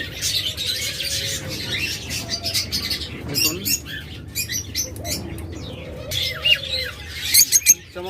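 A green opaline mutation budgerigar chatters and squawks nearby, bursting into sharp calls with a brief flutter of wings, while someone speaks briefly.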